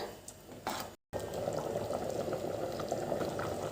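A pot of chickpea biryani bubbles steadily on the stove, a soft continuous simmer broken by a brief pause, with faint clinks near the start.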